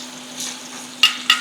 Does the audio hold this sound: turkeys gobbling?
no